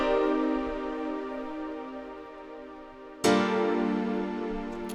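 Sustained minor ninth synth chords hold softly, then a new, brighter chord enters abruptly and rings out, smooth and mellow with no voices.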